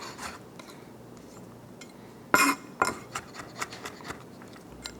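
A knife works garlic on a cutting board with a sharp metallic clink, then a string of lighter taps and scrapes in an uneven rhythm, close and fairly quiet, with no talking.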